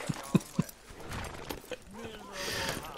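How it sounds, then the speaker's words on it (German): A horse in Red Dead Redemption 2 clip-clops with a few close hoof thuds, then fades into soft ambient game sound. "Das ist ja unser Pferd."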